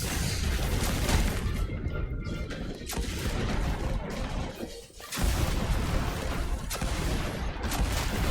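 Scorch Cannon fired in the Destiny 2 video game: dense, loud blasts and booming explosions run almost without a break, with a brief dip midway before the barrage resumes.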